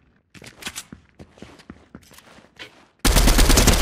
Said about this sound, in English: Oh, this gun takes a second to shoot.